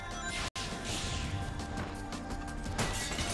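Window glass smashes in the 2006 Sonic the Hedgehog video game, a loud burst of crashing shatter followed by a busy rumbling game soundscape.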